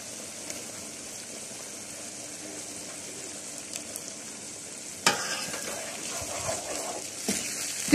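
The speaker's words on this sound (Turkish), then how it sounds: "Güzelce karıştırıyoruz." Fried onion loosened with liquid from bulgur köfte gets stirred in a pan: a soft steady simmering hiss, then a sharper scrape and louder bubbling near the end, close and without voices.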